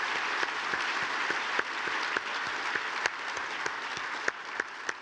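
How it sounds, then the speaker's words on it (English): A crowd applauds at an awards presentation, steady moderate clapping with a few sharper individual claps standing out above the wash. "how about a round of applause for them as well"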